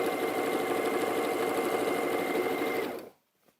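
Sewing machine stitching quilt strips together, a fast, steady whirring chatter heard up close that runs for about three seconds and then stops abruptly, with no voice.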